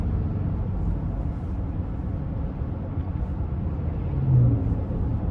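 A 2017 Honda Ridgeline RTL pickup with about 118,000 miles gives a steady, low engine and road rumble under throttle, heard from inside the cab at a fairly even level.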